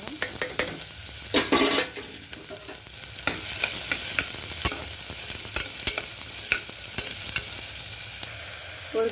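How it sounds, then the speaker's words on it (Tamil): Onions saute in hot oil for a mushroom semi gravy, a steady close sizzle punctuated by frequent clacks and scrapes of a spoon stirring in the pan, without talk. "எண்ணெய் நல்லா காஞ்சதும் வெங்காயத்தை போட்டு நல்லா வதக்கணும்."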